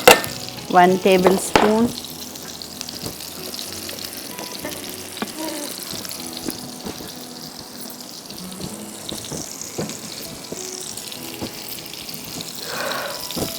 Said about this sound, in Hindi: 2 टेबलस्पून ऑयल, इसमें मैं डालूंगी गार्लिक